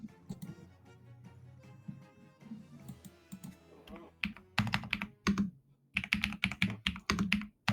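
Typing on a computer keyboard during a game session, with sparse light clicks at first, then denser bursts of rapid keystrokes, close and fairly quiet, no talking.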